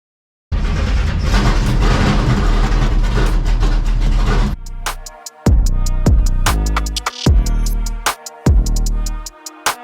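A drag racing car's engine at a cold-weather multi-day drag race event, first a dense continuous roar, then a series of sharp, loud revving bursts that each cut off and decay quickly, close by with no talking.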